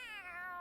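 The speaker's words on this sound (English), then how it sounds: "I'm gonna follow this cat." A cat in the video game Tales of Arise gives a single short, faint meow with a bending pitch, heard alone.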